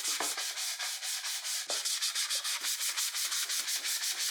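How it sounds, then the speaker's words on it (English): Steady sandpaper strokes rub back and forth over a plywood children's chair in a final pass before finishing, a close, continuous scratchy rhythm of roughly regular strokes with no talking. "It's time for a final sanding before applying a finish."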